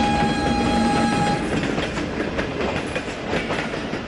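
A train approaches the closed Badami Bagh railway crossing gate. A sustained horn blast sounds first, then loud, close rumbling and clattering wheels roll past continuously.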